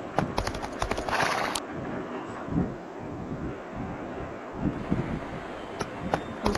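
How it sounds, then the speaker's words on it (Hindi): A horse in a video game is spurred into a fast gallop, its hoofbeats clip-clopping in a quick, steady rhythm along with a neigh, over a broad hiss of wind and game ambience. "चलते हैं भगाते हैं अपने घोड़े को बहुत तेज"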